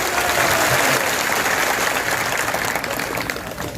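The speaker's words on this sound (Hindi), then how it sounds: "लोग तालियों की गड़गड़ाहट।" A crowd at an outdoor election rally breaks into dense, sustained applause, loud and steady for several seconds before easing slightly at the end.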